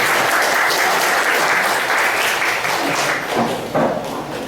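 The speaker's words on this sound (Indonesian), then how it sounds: "Tepuk tangan." Loud, dense clapping from a crowd at the inauguration of a madrasah diniyah, sustained and close, tapering slightly near the end with a few distinct claps standing out.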